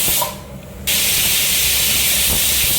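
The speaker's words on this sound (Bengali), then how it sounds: "ফাইনালি চারটা সিটি দিয়ে দিল" A pressure cooker holding Andhra-style Pongal vents with a loud, steady steam hiss that cuts in sharply after a quieter moment and continues unbroken.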